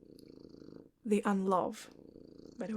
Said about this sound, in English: I'm sure you can hear my cat purring in the background.